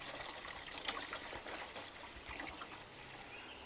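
Old Orchard wild cherry juice poured into a jug, a steady liquid trickle with a soft bubbling splash that runs without pause for a few seconds, fairly quiet and close.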